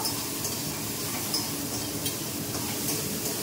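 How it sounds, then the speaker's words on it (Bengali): Bitter gourd fries in hot oil tempered with five-spice (panch phoron), giving a continuous close sizzle with faint scrapes and light clinks of a utensil against the pan. "তেলটা গরম হওয়ার পর এবার উচ্ছেগুলো দিয়ে দিচ্ছি। উচ্ছেগুলো একটু ভেজে নেবো।"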